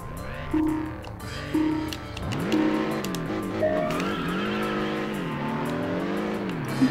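Race cars start off in Test Drive Unlimited, with engines revving up through rising and falling gear changes and tires squealing. Several cars snarl together, loud and close, with no talk over them.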